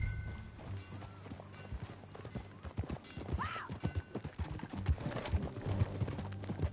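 Horse hooves clip-clopping in Red Dead Redemption 2, a steady run of close hoofbeats with a brief whinny midway, continuing for several seconds amid faint game ambience.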